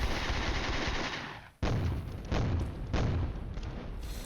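2B9 mortar rounds land in a war video game: a rolling barrage of heavy, booming blasts, with one deep impact followed by two more close, loud bursts, each trailing into a rumbling decay.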